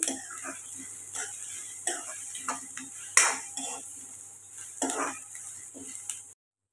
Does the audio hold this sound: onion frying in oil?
yes